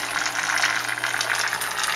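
Water drains steadily from a grow bed in a small home aquaponics system, a continuous close gushing and trickling wash that holds evenly from start to end with no voices.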